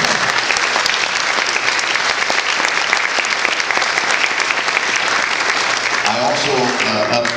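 An audience at a civic gathering breaks into a long, loud round of applause for the mayor, dense steady clapping that continues until a voice begins speaking near the end.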